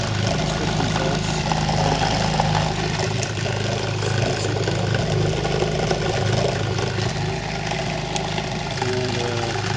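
A vehicle engine idles at roughly 1500 to 1600 RPM, a steady, loud, continuous rumble with a faint whine on top that holds unchanged throughout with no talking.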